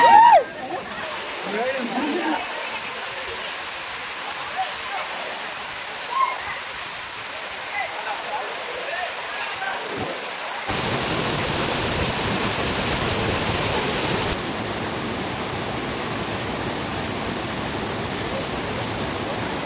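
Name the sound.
waterfall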